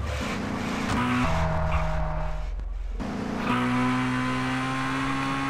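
Cars driving in GTA San Andreas on a Bikini Bottom map mod, with a loud, continuous engine drone whose pitch holds, shifts and rises again as a car accelerates, plus some tire noise, and no talking.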